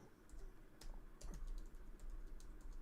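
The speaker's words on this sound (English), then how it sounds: "I'm typing my answer in chat right now." Fingers tap quickly on a computer keyboard, with soft irregular key clicks in short bursts, faint and close, and no talk.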